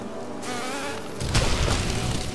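Bees buzzing in the Hollow Knight hive area, a steady insect drone that thickens and grows louder partway through, continuing without any talk.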